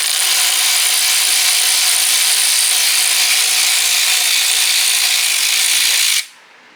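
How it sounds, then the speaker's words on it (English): A power tool whirs to remove a 10 millimeter nut from a Camaro SS engine. The loud, steady, close-up whine runs unbroken for about six seconds, then cuts off abruptly into quiet. "first I'm going to remove this bolt"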